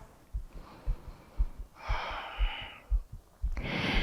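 Slow, audible breaths during a yoga session, with a long exhale and a sharp inhale rushing close to the mic over a faint, steady low pulsing rhythm.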